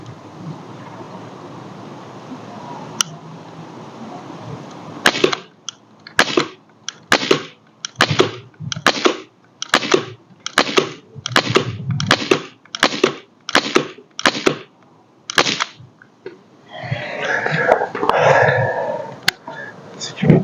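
A Crosman 1077 CO2 semi-auto air rifle in .177 fires at a target 20 metres away, one early shot, then a rapid string of about a dozen sharp cracks close by.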